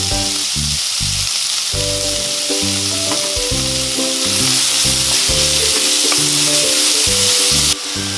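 Onions sauté loudly in a pan for gobi fried rice, a constant close-up sizzle layered with a low repeating pulsing hum from the stove, unbroken and free of speech throughout.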